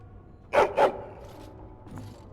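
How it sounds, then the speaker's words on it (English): A dog gives two quick, sharp barks in Dragon Age: Origins, close and clear, followed by a faint third yip over a quiet game ambience. "Hello, doggy."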